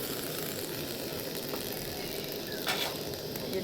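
Cauliflower curry cooking in a pan with a little water, giving a steady soft sizzle and bubbling hiss throughout, fairly quiet and close, with no voices.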